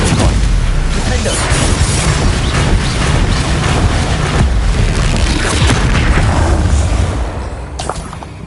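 Spell blasts from the video game Hogwarts Legacy erupt in loud, dense booming explosions, one after another in near-continuous rumbling bursts that fade slightly at the end.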